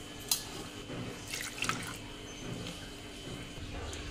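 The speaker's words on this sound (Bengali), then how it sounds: "এক বাটি সুজির সঙ্গে আমি 6 বাটি জল দেব" Water is poured from a bowl into semolina in a mixing bowl, six bowlfuls in all, giving soft close splashes and trickles with a faint background hum.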